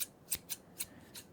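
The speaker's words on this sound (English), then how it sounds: "Get some scissors." Quick crisp scissor snips, four or five short metallic clicks in a loose rhythm, close and fairly quiet.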